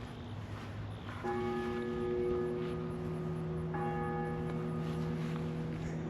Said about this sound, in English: It's not every day you walk a cemetery and hear church bells.